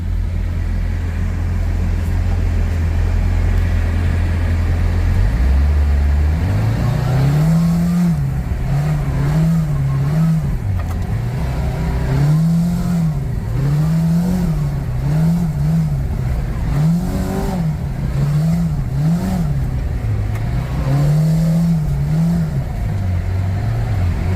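A Kawasaki RIDGE off-road vehicle drives laps on a demo course, its engine idling low before it revs up repeatedly and climbs and drops through gears in a loud, wavering rhythm.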